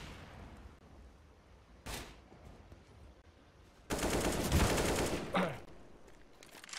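Gunfire in a Counter-Strike: Global Offensive match with an AWP in play: a sharp single shot, then a dense burst of rapid firing lasting over a second, fairly quiet overall with faint caster commentary beneath.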